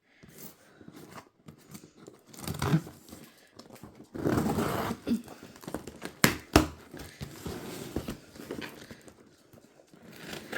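Scissors snip and cut open mystery boxes of designer-inspired puppy clothes, with packaging crinkling and tearing in close, irregular bursts, some rustles louder than others.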